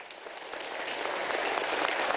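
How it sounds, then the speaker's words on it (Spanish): Steady, swelling applause fills a session of Venezuela's National Assembly, a dense wash of many hands clapping together that grows slightly louder and continues unbroken. "pedirle que le demos un fuerte aplauso a ese bravo pueblo venezolano"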